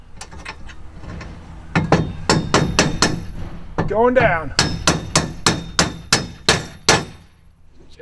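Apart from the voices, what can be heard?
hammer striking metal kayak rack parts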